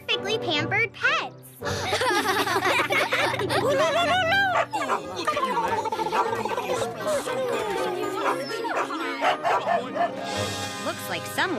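Cartoon dogs barking and yipping at a dog wash in a children's animated show, several short barks and whimpers scattered through a busy mix of music and children's voices.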